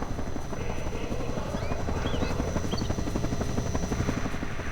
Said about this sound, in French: Hélico ennemi, non? C'est hélico comme ça. Un hélico, ennemi, un hélico.